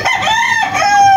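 A rooster in a small backyard chicken breeding farm crows once, loud and close, a long drawn-out call with no talking over it.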